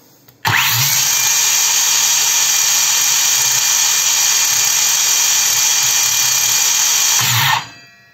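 A YUANSEN cordless circular saw spins up abruptly and runs at a steady high-pitched whine for about seven seconds with no load, then winds down; loud and close, with no talking.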